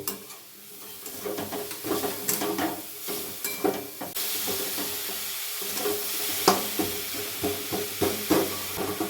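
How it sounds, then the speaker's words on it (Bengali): Coconut and jaggery filling frying in a wok while a utensil stirs it, giving a steady sizzle broken by repeated scraping and clinking strokes, close and fairly loud with no talking. "ওই কড়াইতেই নারকেল আর গুড়টা দিয়ে আমি এখন আগে পুরটা তৈরি করে নেব"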